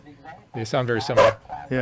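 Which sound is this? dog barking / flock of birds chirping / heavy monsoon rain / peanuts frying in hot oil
dog barking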